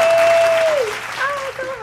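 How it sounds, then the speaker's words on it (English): A small group claps steadily for nearly two seconds at close range, with a faint tonal whistle-like sound riding over the applause. "Every single body right now, clap it up."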